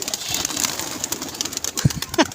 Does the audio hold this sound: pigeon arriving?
yes